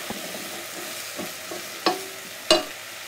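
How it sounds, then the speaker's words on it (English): Chopped carrots being stirred into onions and spices in a pot, giving a few soft scraping stirs and two sharper utensil knocks over a quiet, low sizzle, close by with no talking. "Now you add the 3 cups of chopped carrots, coat it in the onions and the spices"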